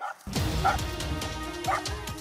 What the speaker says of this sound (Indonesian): Lolongan anjing semakin kuat terdengar.